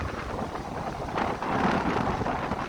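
Steady wind at Wasaga Beach rushes and buffets the microphone in a broad continuous roar that swells slightly halfway through, with no voices.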